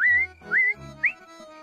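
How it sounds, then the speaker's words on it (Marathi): A person whistles three short, close notes, each one a quick upward-sliding chirp with brief pauses between them, and there is no talking. "अरे मी शिट्टी वाजवायचा प्रयत्न करतोय"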